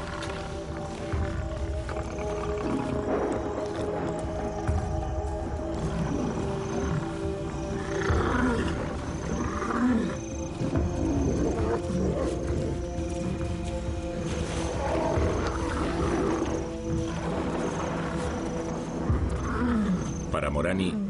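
Male lions roar and growl in a dominance confrontation with rival males, deep, repeated bellowing calls overlapping one another, loud and sustained throughout.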